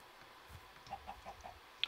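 A Minecraft chicken in the video game gives a few soft, scattered clucks, faint and distant over a quiet background.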